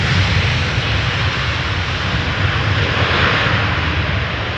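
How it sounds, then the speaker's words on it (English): A loud, steady jet engine roar close by, broad and rumbling with a deep low-end surge, as an airliner brakes with reverse thrust after touchdown at Amsterdam Schiphol Airport. "Finally an airplane using the reverse thrust a little"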